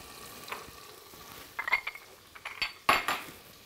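Onions and small capsicums frying in a single pot, a soft sizzle under sharp metallic clinks and scrapes as a utensil stirs against the pot, close and intermittent.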